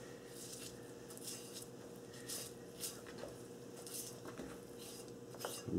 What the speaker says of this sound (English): Make my little opening and cut with the tip of a knife.